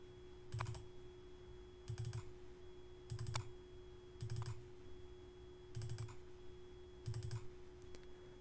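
Keys clatter on a computer keyboard in short, evenly spaced bursts of rapid taps, about seven clusters separated by brief pauses, close and fairly quiet over a steady low electrical hum.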